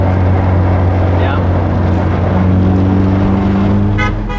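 SR engine idling in a car, a loud steady low rumble with strong vibration, close up, with people talking nearby.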